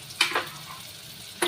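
Kaleji and titya vegetable curry being stirred and mixed in a pan, with a few short scraping strokes of the spoon spaced apart and a quiet background in between.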